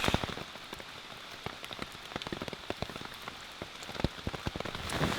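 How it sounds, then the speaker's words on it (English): Heavy rain pours steadily at night in the Red River Gorge woods, with dense drops pattering loudly on a nearby surface throughout. "It started raining. Yep. Raining a lot more."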